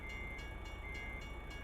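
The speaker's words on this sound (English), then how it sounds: "it's a train." Train in the American Truck Simulator game rolling past as a steady, loud rumble with faint rhythmic wheel clatter and a sustained high whine, no talk over it.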